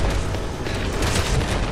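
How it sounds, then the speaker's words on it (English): Gunfire from a pistol that fires explosive rounds in the PC game Resident Evil 6, a dense, continuous booming roar with heavy low rumble and no talk over it. "My pistol shoots very strong explosions."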